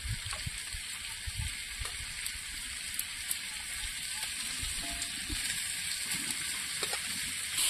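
Vegetables sautéing in a pan for a crab and red tamarind curry, with a steady continuous sizzle and occasional soft stirring scrapes, heard close and alone.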